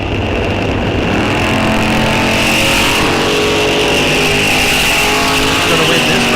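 Drag race cars at a bracket racing event at Rock Falls Raceway, loud continuous engine roar with high-revving exhaust sustained throughout, close and dominant, with faint crowd or announcer noise beneath.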